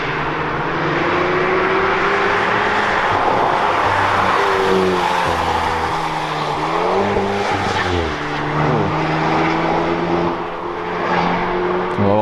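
An Alpine sports car drives hard along a mountain road at Chamrousse, its loud engine note rising and falling through gear changes with some tyre squeal as it passes close by.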